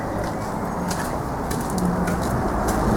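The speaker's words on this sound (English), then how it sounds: "You can hear the traffic." Steady street traffic rumbles outside an abandoned church with patterned tiles, a continuous low wash of distant road noise that swells slightly toward the end, with no voices.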